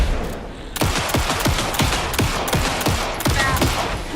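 Rapid, overlapping bursts of gunfire in the video game Alan Wake 2, a dense volley of sharp shots cracking out one after another for several seconds with no voices.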